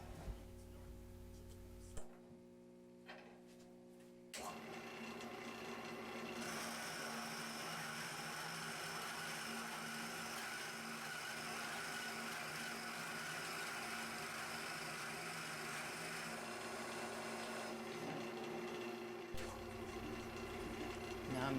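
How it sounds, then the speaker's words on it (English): A round carbide tool hollows out a small canarywood salt cellar bowl spinning on a wood lathe, a steady close whirring and scraping drone that runs for most of the stretch after a brief quieter pause. "I'm using my round carbide tool to dig out the rest of the bowl"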